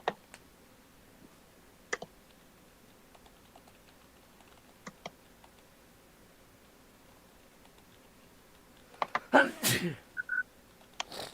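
A single sharp sneeze bursts out near the end, close and loud, following a stretch of quiet room tone broken by scattered faint clicks and taps.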